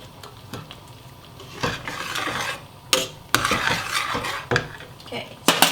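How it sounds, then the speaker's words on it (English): A spoon scrapes and clinks against a pot of thickening bean sauce as it is stirred, with irregular knocks and soft scraping over a faint simmer, heard close and fairly quiet. "So make sure you stir frequently, let it thicken up a bit."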